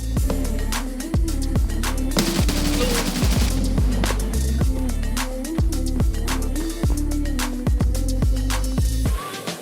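Rapid, loud gunfire from an SVT rifle in Escape from Tarkov, shots cracking in quick repeated bursts with regular rhythm, close and dominant, with no speech over them.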